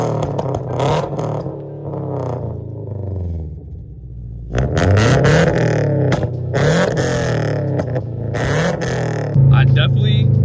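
A car fitted with a JDL front pipe exhaust revs repeatedly, each throttle blip rising into a loud raspy roar before dropping back to idle, captured close on a phone.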